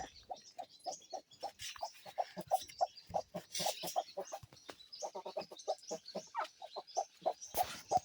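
Many chickens cluck in a rapid, busy chatter close by as they go into their coop, a steady stream of short calls with occasional louder squawks.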